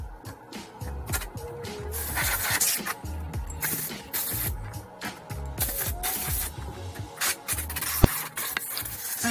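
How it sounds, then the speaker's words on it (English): Obnoxiously loud air compressor buzzing in a CNC machine shop. Continuous close-up din, with scattered clatters and scrapes of parts being handled over it. "that buzzy noise, is my obnoxiously loud air compressor"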